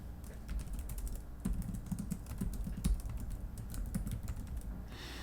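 Steady typing on a computer keyboard while an email address is entered into a form, with close, continuous clicking keystrokes and no voices.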